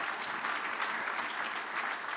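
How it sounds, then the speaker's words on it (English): Steady applause from an audience at a CEO's speech, a dense, even patter of many hands clapping at moderate volume with no voices over it, lasting the full brief moment. "Let's give Afrexim Bank another round of applause."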